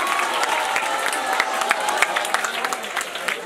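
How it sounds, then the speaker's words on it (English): Audience applause at a high school talk, a dense steady wash of clapping from a hall crowd, fairly near and sustained throughout with no voices over it. "Give them a round of applause."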